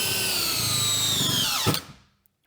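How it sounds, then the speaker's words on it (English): DeWalt DCD996 20-volt hammer drill running on a 5 amp-hour battery, a loud steady whir that drops in pitch under load, then a clunk as it stops and winds down to silence. "the DCD 996 20 volt hammer drill"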